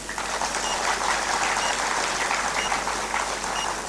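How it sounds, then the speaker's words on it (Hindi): A crowd applauds at a Guru Purnima initiation festival in Prayagraj, a dense, even roar of clapping from many hands, close and continuous throughout. "तालियां हमारी"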